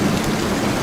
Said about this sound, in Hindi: बारिश भी मस्त आ रही है।